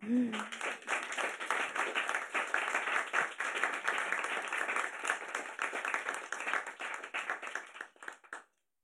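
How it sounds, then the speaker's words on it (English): An audience applauds the panelists at a discussion event: dense, lively clapping, near and sustained for about eight seconds, then cutting off abruptly. "I like to have a big applause for our panelists first."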